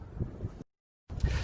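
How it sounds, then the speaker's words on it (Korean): Gusty wind buffets an outdoor microphone in low, rumbling bursts, cutting out briefly midway before returning loud and close. "바람 소리 때문에 어떻게 녹화가 잘 진행될지는 모르겠지만"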